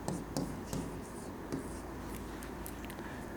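Chalk or pen scratching across a board during a geometry lesson, short faint strokes and taps in an irregular rhythm with quiet background murmur.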